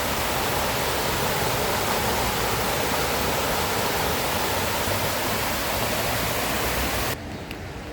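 Water rushes beneath a fallen tree trunk near Ulm's old town in Germany, a steady, dense, close hiss of flowing water that drops slightly in level just before the end, with no talking.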